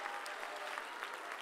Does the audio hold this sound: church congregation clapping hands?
yes